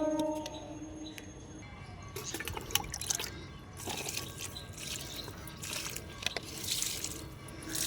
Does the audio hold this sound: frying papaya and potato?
no